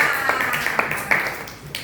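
Children in a classroom applaud a group, making a dense patter of clapping with a few sharper slaps standing out, and faint voices mixed in.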